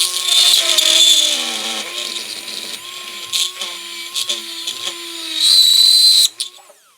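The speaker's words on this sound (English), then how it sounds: "I'm going to go ahead and continue drilling until I'm all the way through the denture" A dental grind burr drills through the palatal portion of an acrylic complete denture, a thin high-pitched whine that rises and falls steadily with short pauses between passes, close and continuous.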